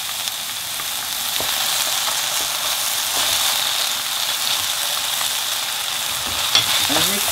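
Prawn fried rice sizzles hard in a pan over a high flame, a loud continuous hiss with a few faint scrapes and clicks of stirring, and no voices.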